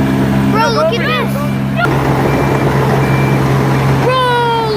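Road construction vehicle sounding reversing beeps over a loud, steady engine rumble, with people talking nearby throughout.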